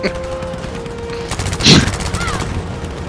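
Rapid gunfire crackles in the World War II shooter Battlefield 5 during a D-Day paratrooper battle, with bursts of shots and a louder blast near the middle, under excited talking.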